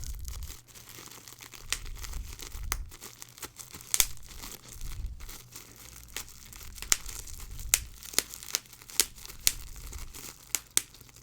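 Close, quiet crinkling and ripping of paper stuck to a sneaker box, with irregular sharp snaps and tearing bursts scattered across the stretch, no voices.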